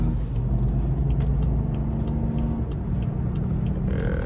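Car on a test drive at an auto auction: the engine rumbles loud and steady from inside the cabin as it accelerates, with the revs shifting slightly and no talk.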